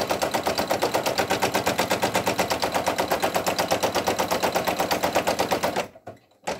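A Brother single-needle embroidery machine sews a placement stitch on minky fabric, a rapid even mechanical rattle that runs steadily close up, then stops abruptly near the end with a brief pause and a final clunk.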